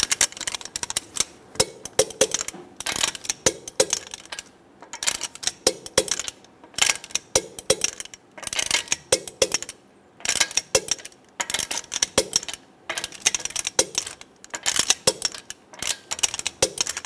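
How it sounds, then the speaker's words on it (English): A 19mm socket on a torque wrench tightens lug nuts in a star pattern to 80 foot-pounds on a 2013-2017 Honda Accord, giving repeated bursts of sharp metallic ratcheting clicks with short pauses between them, close and fairly loud. "Using a 19mm socket, we're going to torque our lug nuts in a star pattern to 80 foot-pounds."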